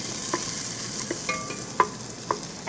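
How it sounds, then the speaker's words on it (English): Shallots sizzle and fry in a hot pan, a steady crackling hiss broken by a few sharp pops and stirring clicks, close and fairly loud with no talking. "And you can hear our pan is hot. The shallots start to cook right away."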